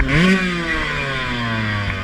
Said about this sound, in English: I get hung up on a root because I got to rev the piss out of this 125.